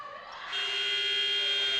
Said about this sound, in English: The shot doesn't go, and the buzzer does.